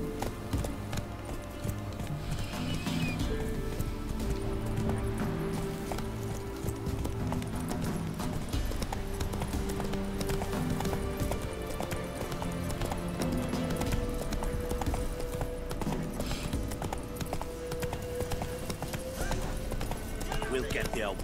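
Horse galloping in the video game The Witcher 3, a steady rhythmic clip-clop of hooves running continuously under game music and occasional voices, with a brief whinny.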